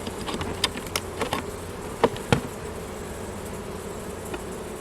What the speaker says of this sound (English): there are so many bees in here